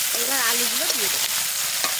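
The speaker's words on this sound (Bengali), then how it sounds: "এবার আলুগুলো দিয়ে দেবো" Potatoes tipped into a hot pan of spiced khichuri with fresh garden vegetables, frying and stirred, giving a steady close sizzle with scraping stir strokes and no talk.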